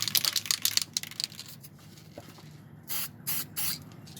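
Enamel paint sprays from an aerosol can in three short hissing bursts near the end, following a stretch of crinkling and rustling handling noise up close.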